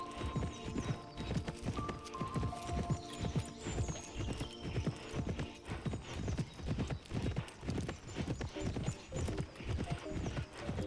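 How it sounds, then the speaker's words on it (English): Horse running in the game Petz Horse Club, quick rhythmic hoofbeats pounding evenly throughout, close and prominent over a bright musical background. "Run, horsey, run!"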